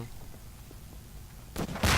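Explosive gunfire in Garry's Mod bursts in near the end, two loud heavy blasts following a quiet low rumbling stretch.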